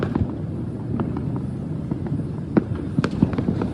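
Firecrackers burst for the Tihar festival, a few sharp pops and bangs standing out over a murmuring outdoor background, with several cracks bunched together near the end.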